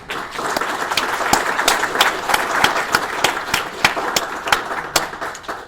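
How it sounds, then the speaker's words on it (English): A round of applause at a gala dinner and silent auction in a hotel in Irvine, California, with the crowd clapping steadily and several sharp, nearby individual claps standing out through the whole stretch. "So another round of applause for all of you."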